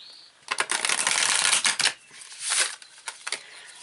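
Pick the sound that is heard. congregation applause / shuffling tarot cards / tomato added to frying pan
shuffling tarot cards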